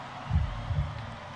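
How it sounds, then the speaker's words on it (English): A heartbeat sound effect in a live concert performance gives two deep, muffled thumps about half a second apart over a steady low background hum. "It's a heartbeat."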